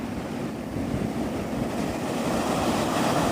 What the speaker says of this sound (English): I came out to the beach so that you could listen to the sounds of the waves.